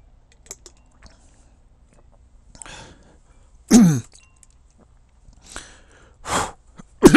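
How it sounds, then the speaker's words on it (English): A few short, sharp coughs and throat-clearing bursts, separated by quiet gaps, sound close and fairly loud in an otherwise still room. "Did you hear that cough?"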